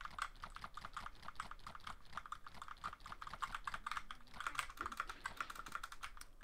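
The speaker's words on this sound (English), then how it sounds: "I'm like spamming my keyboard right now." Rapid, dense clatter of computer keys being mashed during Lego Star Wars: The Complete Saga play, a steady flurry of sharp clicks at close range with no talk over it.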